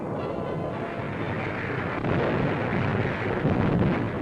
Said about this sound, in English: On come our heavily manned landing craft as naval gunfire mounts to an unbelievable crescendo of thunder